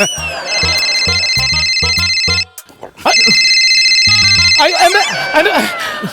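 A phone ringtone plays loudly in repeated bursts, pausing briefly before resuming, with a voice speaking over the end.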